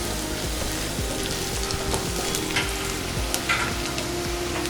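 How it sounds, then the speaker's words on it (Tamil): Onions and a slit green chilli sautéing in sesame oil in a pan, a loud dense crackling sizzle with stirring scrapes throughout, close and continuous. "வெங்காயம் நல்லா வதங்கிடுச்சு"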